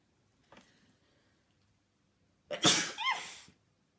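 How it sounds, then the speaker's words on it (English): A single loud, close sneeze bursts out after a brief quiet intake of breath, then fades into silence. "Sorry, that's my sneeze."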